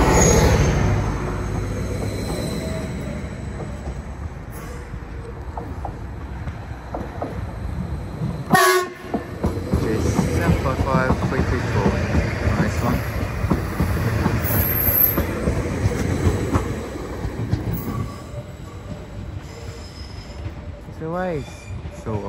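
Greater Anglia class 755 trains pull out of Ipswich station, with rumbling wheels, squealing rails and a horn blast partway through, while people talk nearby on the platform.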